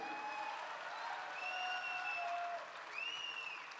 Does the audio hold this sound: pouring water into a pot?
no